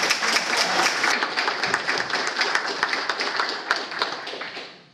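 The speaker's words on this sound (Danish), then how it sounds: "Klapsalmen siger jo alt." Audience applause at a political meeting in Randers, dense clapping from many hands held steady for about five seconds, then tapering off at the end.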